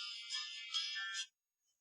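Phone ringtone for an incoming call, a bright, fairly faint electronic melody of a few rising tones that plays for about a second before stopping, with no talking.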